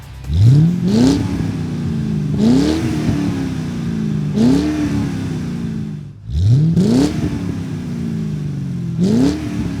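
A Ford Mustang GT V8 with an MBRP axle-back exhaust revving repeatedly, each blip rising sharply then settling into a deep rumbling idle, five or six revs in a row, close and loud.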